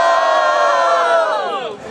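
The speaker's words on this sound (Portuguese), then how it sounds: "Quem gostou das rimas do Dobre faz muito barulho" Loud crowd at a student rap battle in Guarulhos roars and shouts in one sustained burst, dense cheering that tapers slightly at the end.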